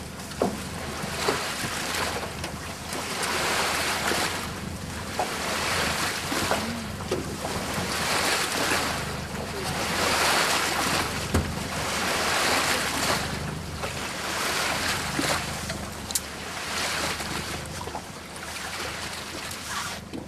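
Water of the Yukon River washes and slaps against a small boat, a continuous rough surging with gusts of wind buffeting the microphone, steady and fairly loud throughout.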